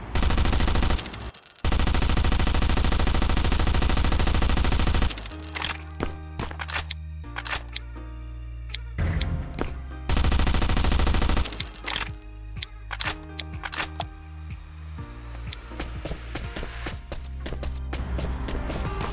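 Gunfire in the survival video game Last Island of Survival as car tires are shot out, with long sustained bursts of rapid automatic fire separated by shorter volleys and single cracks, loud and close, with footsteps in between.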